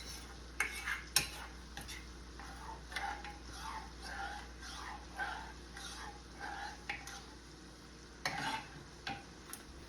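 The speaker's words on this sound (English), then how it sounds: "Just give this butter sauce a good stir." A spoon stirs a lemon butter sauce in a pan, making soft scrapes and a few sharp clinks at irregular moments over a quiet background, with faint voice sounds now and then.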